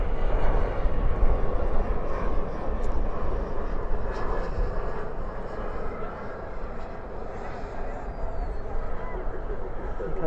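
At night at DFW airport, a heavy jet lands with reversers deployed, its deep broadband engine roar steady and fairly distant for the whole stretch, with faint background noise.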